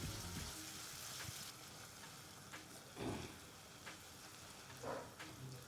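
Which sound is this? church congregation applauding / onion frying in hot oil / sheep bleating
onion frying in hot oil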